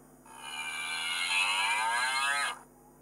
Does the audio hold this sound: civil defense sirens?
no